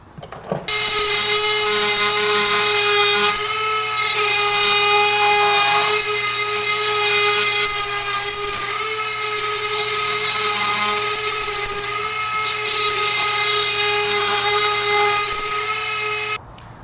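A power tool grinds loudly and steadily into a soft metal Buehler lever part, a close, continuous high whine with brief dips where the cut eases off, no speech.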